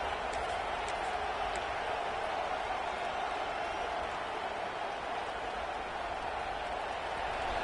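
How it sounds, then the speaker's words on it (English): Stadium crowd at a football game roaring in a steady, dense wash of cheering that holds without a break, loud and diffuse throughout, no distinct voices standing out. "Listen to this crowd just shaking the girders of this place, trying to help their defense."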